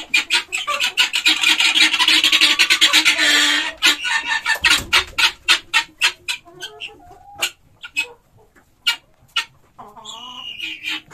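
A broody guinea hen clucks close by, starting in a rapid rasping chatter and then slowing into separate, evenly spaced clucks.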